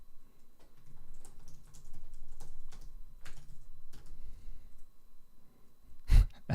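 Rapid, steady typing on a computer keyboard, close and crisp, with a brief sigh or breath near the end.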